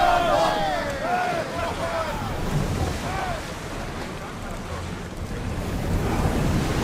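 A sailing ship crossing the open sea in Assassin's Creed Odyssey, with steady wind and surging waves, faint crew voices and calls rising over the continuous rush of water.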